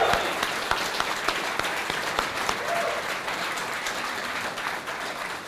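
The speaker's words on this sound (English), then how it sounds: "Join me in giving a round of applause for Maura Botsford and Andrew Yankowski." A campaign rally audience in Binghamton, New York breaks into steady, dense applause, loud and sustained throughout, with faint crowd noise beneath the clapping.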